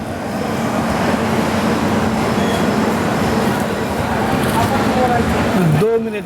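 The Ajanta Express passenger train rolls out of Jalna station after a short halt, a steady rumbling clatter of carriages throughout, with a brief squeal near the end.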